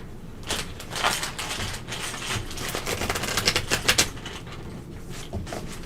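Tarot cards are shuffled close up, a quick run of crisp riffling clicks and flutters that builds to a brisk burst before it settles; no one speaks.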